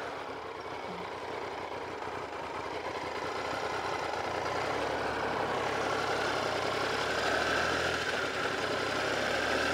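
A Triumph Trophy 900 motorcycle with 94K miles, under way on a ride, gives a steady, broad engine drone mixed with wind rush that builds slightly and holds, with no speech.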